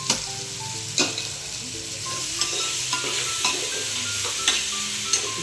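Tomatoes and oil stirred together in a frying pan, a steady close sizzle with repeated scraping clacks of the spoon against the pan at an uneven rhythm, no talk.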